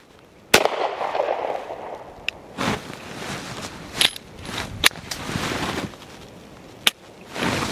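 Smith and Wesson M&P Shield Plus pistol fired outdoors, several sharp shots spaced irregularly over a few seconds with rustling and movement between, no talking.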